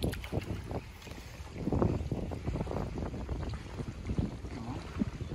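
Strong wind blowing at a lake in Masuria, a continuous gusty rumble battering the microphone and rising and falling in waves, with no talk.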